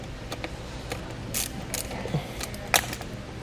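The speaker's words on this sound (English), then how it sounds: "I need to take a socket and wrench and remove that nut on the top there." Socket wrench loosening the nut on a car battery's positive terminal, a handful of short metallic ratchet clicks scattered over a quiet background, close and moderately loud.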